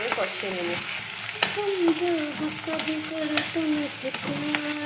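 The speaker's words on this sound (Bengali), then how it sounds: "পেঁয়াজটা ভেজে নেবো ভালো করে খুব ভালো করে না হালকা হালকা লাল হলে" Onions fry in a pan with a close, continuous sizzle, while a utensil scrapes and stirs in repeated strokes with short squeaky glides.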